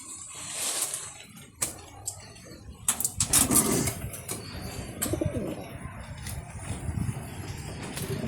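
Racing pigeons in a flying loft give low cooing calls among scattered wing flaps and sharp knocks, fairly close, with some faint talk in the background.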